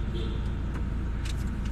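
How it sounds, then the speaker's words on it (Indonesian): Inside a car on the road, a low, steady engine and road rumble fills the cabin, with a few faint clicks and rattles and quiet, muffled voice sounds in the background. "Ya, aku sedang di mobil."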